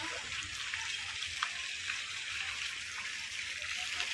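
Water released across a park garden at Grand Central Park in Thane, a soft, steady hiss of flow heard at a distance, faint and continuous with no one speaking.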